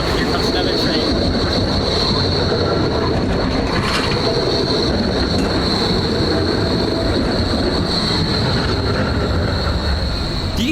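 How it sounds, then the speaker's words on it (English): A train rumbling past at close range, a loud continuous roar of wheels on rails with a steady high squeal throughout. "Oh, look, here comes another train."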